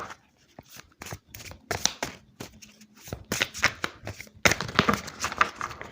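Tarot cards are shuffled and cut by hand at close range, making irregular bursts of riffling and slapping card sounds with brief pauses between them.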